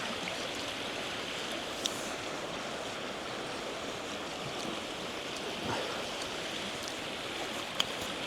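A river stream rushing steadily and close by, a constant broad wash of flowing water with light wind buffeting and no pauses.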